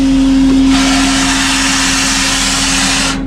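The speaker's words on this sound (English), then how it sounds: "You want to let the vacuum run for a couple seconds." Vacuum cleaner running continuously, loud and close, a steady motor whine with a low hum underneath that brightens into a stronger airy roar after the first moment and stops abruptly at the end.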